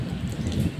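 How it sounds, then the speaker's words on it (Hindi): A brief burst of steady rain falling outdoors, a dense, even hiss of drops on surfaces, fairly close and alone, with no voices. "बारिश।"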